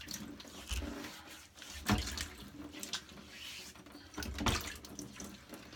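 Water runs from a tap into a sink before shaving, a faint close trickle broken by a few louder splashes as hands scoop it to the face.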